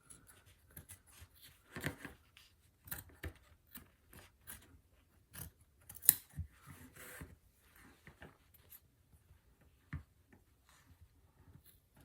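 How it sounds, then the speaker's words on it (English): Scissors snip away a printed sublimation image from a hoop ornament, giving faint, close, irregular cuts and light paper rustles spread across the quiet stretch, with no talking. "And now I can cut this one away."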